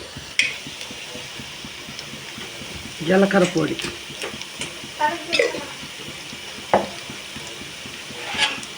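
Fenugreek seeds and cumin powder fry in oil in a pan for a fish pulusu curry, giving a low sizzle broken by a few bursts of stirring and scraping, with a voice speaking over it.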